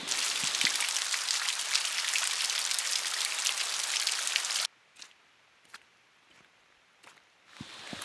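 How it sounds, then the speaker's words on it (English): Steady heavy rain hisses loudly for several seconds, then cuts off to near quiet with scattered drips and taps before the patter returns faintly. "So it's been raining for 2 days straight"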